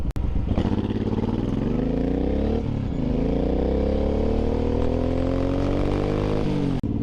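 A Suzuki M109R motorcycle engine drones steadily up close, its pitch climbing slowly through the gears as the bike rides along, with wind rushing throughout.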